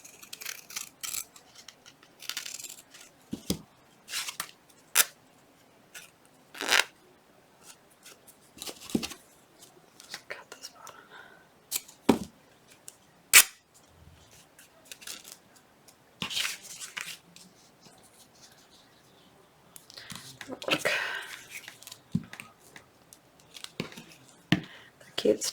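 Scissors cutting Christmas fabric, scattered short snips and crisp rustles at close range, with quiet pauses between cuts.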